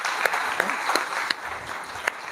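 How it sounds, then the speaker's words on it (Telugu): A church congregation claps together during a Sunday worship service, a dense roomy wash of applause with a few sharper accented claps, steady throughout the short moment. "చప్పట్లు కొట్టి అందరు కొట్టాల"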